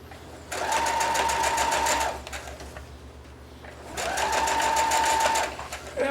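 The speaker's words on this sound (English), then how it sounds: "And obviously you sew at whatever speed you feel comfortable at." A sewing machine stitches denim jeans in two steady runs of rapid, even whirring, each lasting about two seconds, with a short pause between them, heard close and clear.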